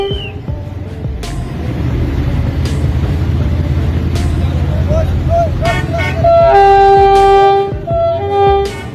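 A train runs through a railway crossing in Pakistan with a loud continuous low rumble, then repeated blaring horn toots near the end as it passes close by.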